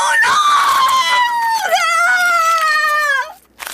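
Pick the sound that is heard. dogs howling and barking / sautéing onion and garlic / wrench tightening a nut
dogs howling and barking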